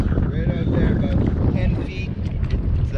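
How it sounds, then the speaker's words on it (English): Steady, loud wind buffets the microphone during kayak fishing for walleye on open water, a constant low rumble with no voices. "This might be windy."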